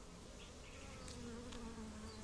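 A steady, dense drone of many honey bees buzzing inside a hive, continuous and close, with no voices.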